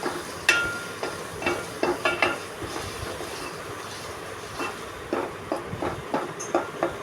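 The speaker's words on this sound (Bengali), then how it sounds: "চিংড়ি মাছগুলো দেওয়ার পরে ভালো করে নেড়ে দিতে হবে" A spatula stirs shrimp with ridge gourd in a pan, making intermittent scrapes and clinks close by over a faint, low sizzle, with no voices.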